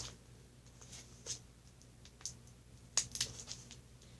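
Scissors snip and crackle through heavy packing tape on a shipping package, faint, sparse clicks and cuts at close range, with a few sharper snips clustered near the end in a quiet room.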